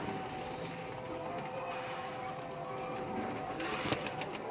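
Teddy pigeons cooing in a loft of 22 birds, soft low coos under a dense, steady wash of background ambience and distant noise, with no talking.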